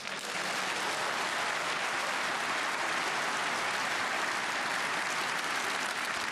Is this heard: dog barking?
no